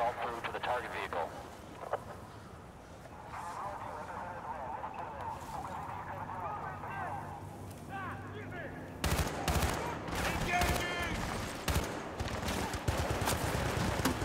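Bursts of rapid gunfire from the shooter game Battlefield Bad Company 2 come in dense volleys, growing heavier and louder in the second half, under steady background noise with voices talking over it.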